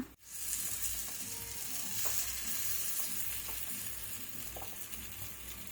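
Banana paniyaram batter cooks over a medium flame in a pan, giving a continuous soft sizzle and faint bubbling crackle that starts suddenly and holds steady without talk.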